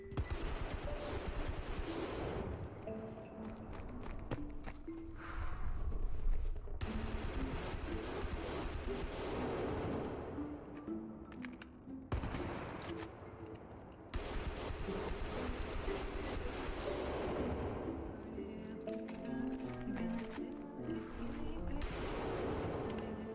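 Gunfire from a Godot zombie video game, rapid bursts of shots in long runs broken by short pauses, fairly loud against a steady game backdrop with occasional voice.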